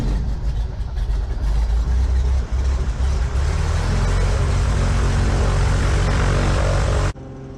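Cessna 180 propeller aircraft engine in a flight simulator, a loud, steady droning roar with a deep low rumble that holds throughout before cutting off abruptly near the end.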